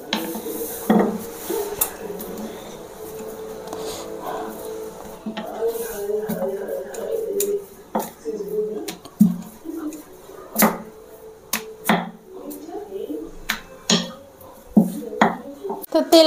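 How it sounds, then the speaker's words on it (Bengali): A rolling pin works small rounds of luchi dough on a board, making soft rolling rubs and occasional wooden knocks and clatters, with a voice speaking at times. "এবার আমি এক এক করে বেলে নেব।"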